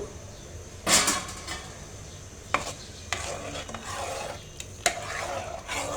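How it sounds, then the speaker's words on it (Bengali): Powdered milk is stirred into milk in a pot for rasmalai, a steady scraping swish with a few sharper clacks of the spoon against the metal, close and continuous with no talking. "এই যে এভাবে একদম পুরাটাকে মিক্স করে নেব পুরো গুঁড়া দুধটাকে"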